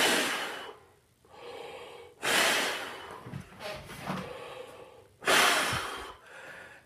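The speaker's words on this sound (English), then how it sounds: "as I'm breathing in and blowing the air out" A tuba player's deep inhalations and forceful exhalations of air, three strong breaths with quieter ones between, close and alone without speech.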